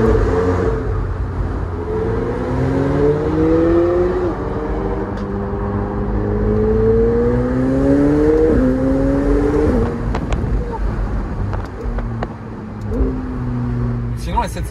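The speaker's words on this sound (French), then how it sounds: "Sinon la 720S Spider c'est une voiture hyper pratique pour cruiser" A McLaren 720S Spider cruises along, its engine droning steadily and shifting pitch through gear changes, rising and settling as it drives, heard from inside the car with a steady rumble throughout.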